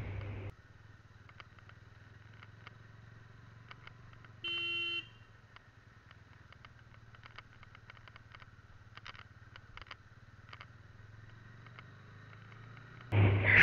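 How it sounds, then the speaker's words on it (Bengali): A new TVS Ronin 225cc motorcycle on its first ride from the showroom gives a steady, low engine hum throughout, with a brief horn toot partway through and faint clicks. "শোরুম থেকে আনার পর বাইকটাকে প্রথমবার চালানো এটা"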